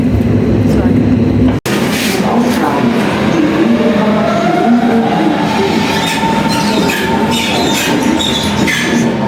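A train rumbles loudly through Berlin Central Station, with a long squealing whine rising and holding over the steady roar.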